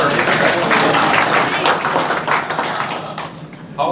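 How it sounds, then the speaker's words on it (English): Audience applause for a catering service at a Wi-Fi design day event in Australia, dense sustained clapping from a crowd that thins and fades near the end. "How about a round of applause for our service?"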